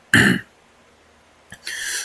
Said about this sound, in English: Right, let's properly cough.